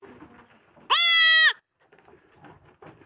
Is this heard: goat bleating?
yes